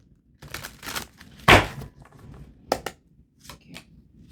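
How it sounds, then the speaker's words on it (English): Tarot cards being shuffled by hand, a run of crisp riffling bursts with one loud flurry in the middle and softer card slaps and rustles around it, close and alone. "Give me one last shuffle."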